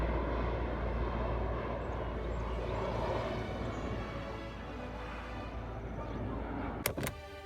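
An old cargo plane passes overhead above a house, giving a low, broad rumble that stays fairly faint and distant throughout, with a couple of sharp clicks near the end.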